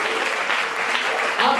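Church congregation applauding during a service, dense steady clapping from many hands filling the room, with voices mixed in under the applause.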